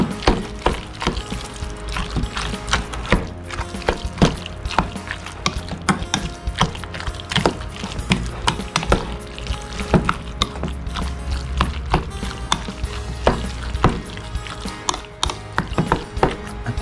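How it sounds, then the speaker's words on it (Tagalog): Fried mackerel and mushrooms stirred in a pan, with continuous close clattering and scraping of the utensil against the pan in a busy, irregular rhythm over a low sizzling bed. "ihalo muna natin siya, yung mushroom. At i-mix natin ulit."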